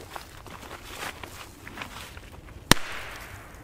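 A single sharp firecracker crack bursts out on a plate, brief and loud, after a few seconds of shuffling background noise, with a faint hiss trailing after it.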